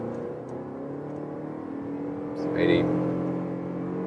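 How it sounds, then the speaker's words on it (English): A Lexus LM luxury MPV accelerates from 60 to 100 km/h, heard from the cabin: a muted, steady engine drone rising slightly under a brief spoken word. "you hear the engine noise predominantly"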